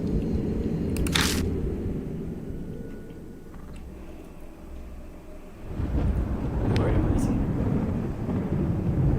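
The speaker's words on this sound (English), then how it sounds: "Thunder rumbles in the distance. Sounds like rain again." Distant thunder in the video game Death Mark rolls as a low, sustained rumble, swelling again in the second half, with a brief sharp crackle early on and no talking.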